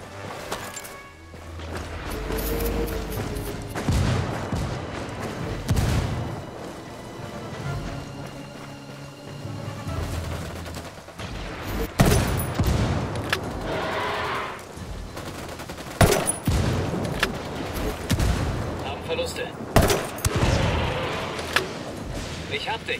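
Gunfire crackles in Ghost Recon Wildlands, with scattered shots and bursts and several sharp, heavy blasts in the second half that fit a grenade explosion. A voice is heard in the background.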